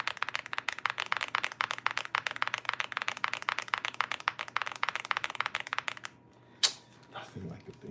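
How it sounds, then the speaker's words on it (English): Clattering mechanical keyboard typing, a rapid, steady run of close key clicks for about six seconds, then a pause with one sharper knock and faint rustle. "I like the sound of that keyboard."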